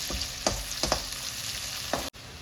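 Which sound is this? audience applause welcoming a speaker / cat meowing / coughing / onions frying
onions frying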